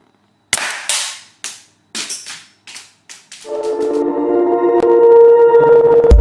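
A small homemade toy gun fuelled by alcohol and hairspray and firing marbles pops seven or eight times in sharp, close, evenly spaced shots, then a steady whining hum rises and holds to the end.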